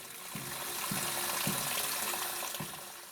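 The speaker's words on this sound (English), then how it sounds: "it's best to clear the media from the brass using water, either running or while the casing is submerged" Water runs steadily over brass cartridge casings as blasting media is rinsed out of them, a continuous close splashing wash with a few soft bumps and knocks of the brass against the sink.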